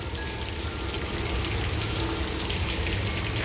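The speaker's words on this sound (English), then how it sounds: "all the hail is on our awnings, our little covering things for our dogs" Hail pelting the awnings over dog kennels during a February hailstorm in Tucson, a constant dense patter that stays even and moderately loud throughout with no voices.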